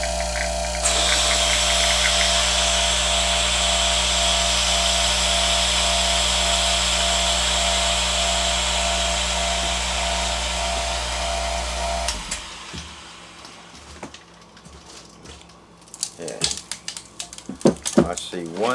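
A chamber sealer's vacuum pump evacuates bags of freeze-dried food with a loud, steady mechanical roar and hum for about twelve seconds, then shuts off, leaving faint rustling and clicks as the bags are handled.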